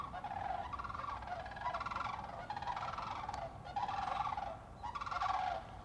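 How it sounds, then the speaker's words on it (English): Several cranes in flight over a forest give repeated rolling, bugling calls in rhythmic bursts, moderately distant over steady low background noise, with no talk during the calls. "Wait, no, it's not. It's a crane."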